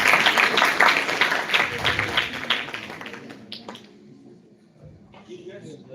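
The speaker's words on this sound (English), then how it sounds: "Give a huge clap." Audience at a college event applauds, a dense burst of clapping that thins and fades over several seconds, with a voice coming in afterward.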